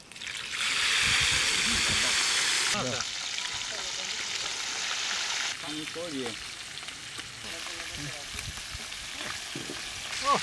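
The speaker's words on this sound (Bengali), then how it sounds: "একসাথে এখন আমরা ভাজিয়ে নেবো" Chicken and boiled rice for kabsa biryani fry together in a pan at a village cooking spot, giving a loud, steady sizzle with occasional stirring scrapes, while people talk in the background.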